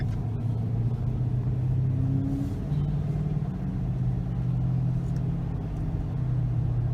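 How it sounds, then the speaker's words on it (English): A car pulling out of a yard onto a road at gentle throttle, its engine a steady low rumble heard close from inside, with no hard revving. "and we're pulling out onto the road"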